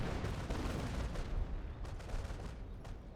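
A Company of Heroes artillery barrage, a dense rumbling wash of overlapping distant blasts that rolls continuously without clear separate impacts, with no voices.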